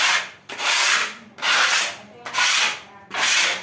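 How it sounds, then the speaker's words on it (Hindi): A wooden window creaks and rubs as it is swung back and forth in a home, giving four long, loud grinding scrapes at an even rhythm, with brief pauses between strokes and no voices. "मैं समझ सकता हूँ ये खिड़की की आवाज़ थोड़ी इरिटेटिंग होती है"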